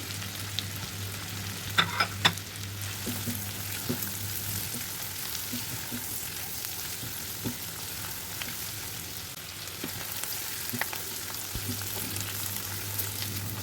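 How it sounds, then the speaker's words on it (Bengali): Chopped green chillies fry with fish roe in a pan, giving a low, steady sizzle with a few sharp clinks of stirring early on and faint scraping throughout, with no talking. "এখন কিছু কাঁচামরিচ কাটা দিয়ে ভালো করে একটু ভাজি করে নিলাম।"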